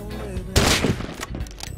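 Burst of gunfire in the survival video game Rust during a deathmatch firefight, a loud crack followed by a rough, dense spray of shots and echoing reports.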